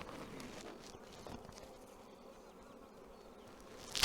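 Honey bees hum steadily at an open beehive as a cover is lowered, a soft continuous buzz close by with faint handling sounds and a brief sharp noise at the very end.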